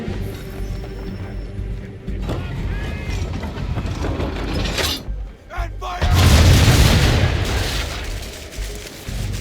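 Old powder barrels explode in a naval battle in the video game Assassin's Creed III, with a deep, loud boom rising after a stretch of cannon and ship noise and mechanical clatter, with a voice speaking over it.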